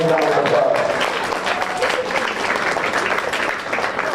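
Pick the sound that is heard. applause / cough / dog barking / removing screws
applause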